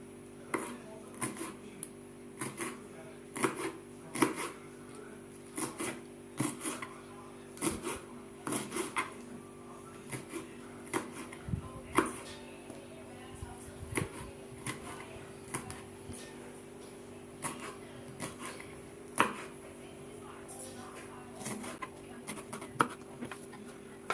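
Steady knife chopping of peppers on a cutting board, quick repeated taps with brief pauses, close and clear with no talking.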